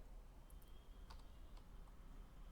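A few faint computer keyboard keystrokes in a quiet room, sparse irregular clicks over a steady low background hiss, typing into a browser with no speech.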